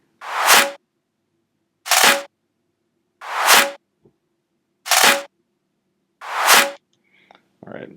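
A layered trap snare built from four stacked samples hits five times at an even, spaced rhythm, each a sharp, bright crack with a short tail, followed by a brief softer trailing sound.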